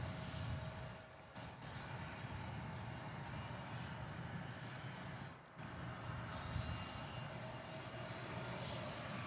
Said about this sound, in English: There was American Flight 1994 coming in from Los Angeles on that Airbus A321.